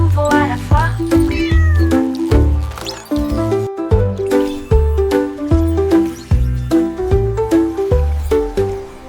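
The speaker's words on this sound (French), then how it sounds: "Elle a miaulé bonjour au drone qui passait" A cat meows in a bright, rhythmic run of repeated tonal cries that rise and fall like a melody over steady musical backing, loud and close with no talking.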